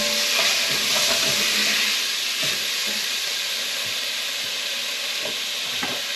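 Beef rendang stirred in a hot pan, a bright continuous sizzle with a scattering of scraping and clacking strokes from the spoon, close and steady throughout.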